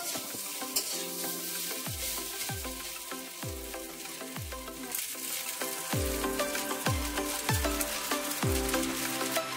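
Cooked vegetarian pasta is stirred with sauce and salt in a pan, a continuous bright sizzle and scraping of the spoon over a rhythmic musical backing with repeating low swooping notes.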